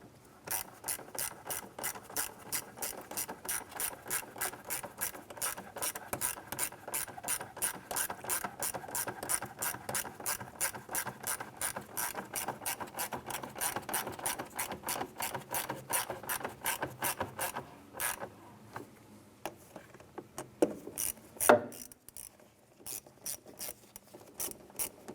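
A ratchet tightens water pump bolts on a 1994-2004 Chevrolet S-10, with a long run of quick, even metallic clicks in steady bursts, then a few slower, scattered clicks near the end, close and alone.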